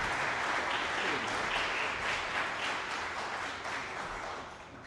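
An audience applauds warmly after a live classical cello and piano performance, a full, sustained burst of clapping that gradually tapers off toward the end.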